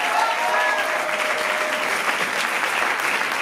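Students at a university women's month closing event applaud Maître Dorothée Madilla, a thick, continuous round of clapping from a large audience, loud and steady throughout with a faint murmur of voices mixed in.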